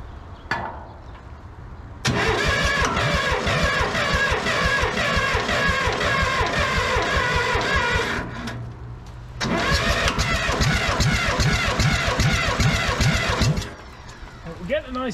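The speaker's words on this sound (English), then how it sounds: "We're getting a nice crank now anyway." An engine on a 1970s John Deere 310 backhoe cranks in two long bursts of rapid, rhythmic turning over, loud and close, with a short pause between them and a voice heard near the start and end.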